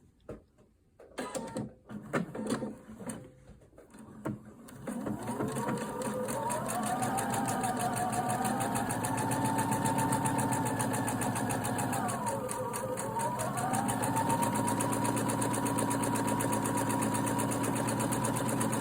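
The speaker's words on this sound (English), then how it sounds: "So we'll start stitching from one pin and stop at the next." A sewing machine stitching elastic into fabric about a quarter inch from the edge, starting with a few handling clicks and knocks, then a long steady close mechanical whir with a slight pitch dip partway through.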